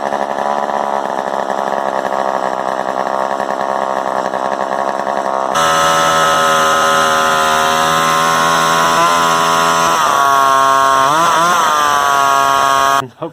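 A vintage Craftsman chainsaw engine, model 1G0381430, runs loud and close after a fuel line repair and carburetor adjustment, idling steadily before jumping to a higher, harsher rev that wavers and surges, then cuts off abruptly.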